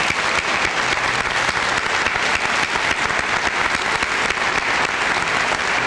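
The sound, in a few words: applause for students at a senior assembly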